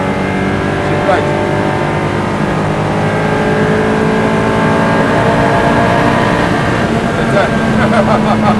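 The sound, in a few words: Tofaş 131 Doğan car with Honda K24 engine accelerating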